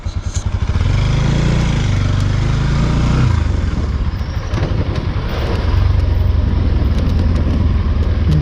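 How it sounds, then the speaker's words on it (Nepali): A motorcycle moving along the road ahead near Sundarijal, its engine loud and close with rising and falling revs, rumbling steadily throughout. "अगाडि एउटा बाइक गइरहेको रहेछ"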